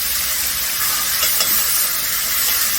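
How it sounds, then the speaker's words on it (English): Chicken with seasoning sizzles and fries in a pot, a close, steady bright hiss with light stirring texture throughout. "We just add the chicken to the pot and then cover the chicken."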